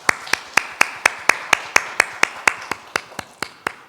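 A church congregation claps in thanks during a Sunday worship service, about sixteen sharp, evenly spaced claps in a steady rhythm, close and clear with no talk over them.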